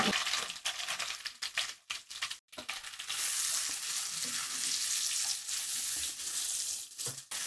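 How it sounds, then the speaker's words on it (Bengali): Chopped onion, about a cup, frying over medium heat in the same pan just used for frying prawns, giving a steady loud sizzle with occasional brief gaps and scraping stir sounds, no talking. "একই প্যানে এক কাপ মতো পেঁয়াজ কুচানো দিয়ে দিচ্ছি"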